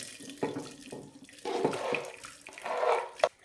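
Sauce and meat juices are poured into a preheated slow cooker for red wine beef, producing a liquid splashing and gurgling sound in a few uneven bursts, close and moderately loud.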